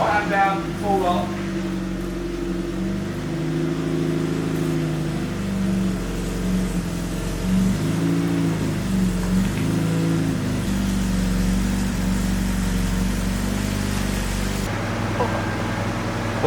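A steady low mechanical hum from a fan running in a garage fills the space while people talk over it at close range.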